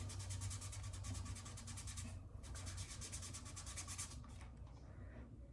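Shoe being rubbed clean with a cloth and acetone, a rapid scratchy back-and-forth rubbing close by, pausing briefly midway and fading toward the end.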